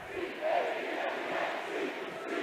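Steady crowd murmur fills a packed high school boys basketball gym at American Fork for Lone Peak versus American Fork, a dense, continuous roar of voices with slight swells and no single voice standing out.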